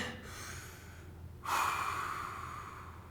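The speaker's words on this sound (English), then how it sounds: "Breathe in." A person lying on a foam roller during a trigger point release draws in a breath. A soft short intake comes first, then a longer, louder breath up close against a quiet room.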